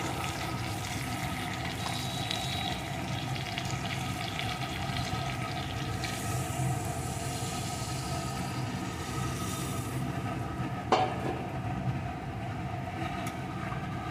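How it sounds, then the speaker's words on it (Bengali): A prawn and cauliflower curry with potato bubbles in a pan, a steady close simmering hiss with faint stirring and one short knock, no voices. "তরকারিটা কিন্তু ভালো রকম ফুটছে"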